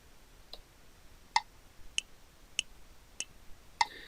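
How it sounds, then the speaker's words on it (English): A metronome set to 100 bpm ticks alone at a steady, even pulse, its sharp, quiet clicks with one beat in the bar voiced differently as an accent. "basically usually you hear the one click. It's got a different sound"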